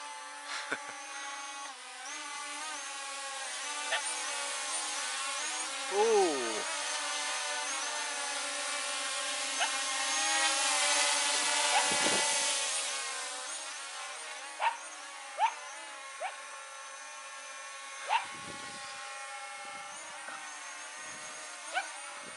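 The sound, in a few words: drone flying overhead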